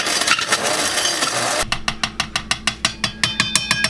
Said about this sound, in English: Now we're just going to grind this up.